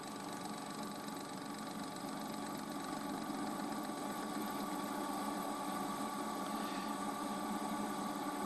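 A lathe runs at reduced speed while machining a pulley puller for a Toyota RAV4, giving a steady, moderately loud mechanical hum with a constant tonal drone and no talking.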